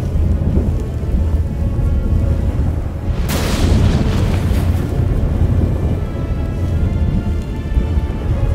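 Thunderstorm in the video game Witcher 3: steady heavy rain with low rumbling, and a loud thunder crack about a third of the way in that rolls off into continued downpour.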